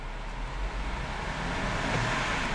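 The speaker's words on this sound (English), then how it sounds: "I'm going to rev the engine" A 2011 BMW X3 28i xDrive SUV idles and is revved, a steady close engine rumble that swells slightly toward the end, with no talk.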